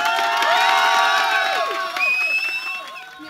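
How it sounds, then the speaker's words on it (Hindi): A mall crowd at a live program cheers and shouts excitedly, with high whoops and children's voices rising together, loud and close, then fading slightly. "आप लोग एक दफ़ा जोरदार क्लैपिंग करते हैं।"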